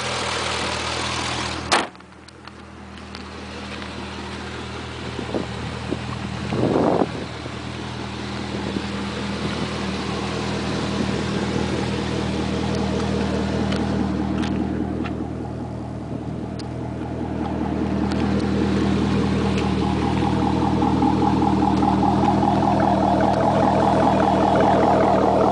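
A black 2007 Chevy Corvette Convertible, automatic, with a custom exhaust, idles with a steady low rumble. A sharp knock comes near the start and a brief rev swell follows, then the engine runs on evenly and close.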